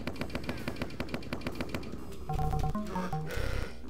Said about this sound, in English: I'm using the more basic machine gun here